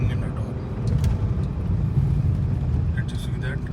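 A VW Vento 1.5 TDI diesel engine drones steadily in third gear above 2000 rpm with its turbo failing to kick in, a continuous low cabin rumble without boost surge.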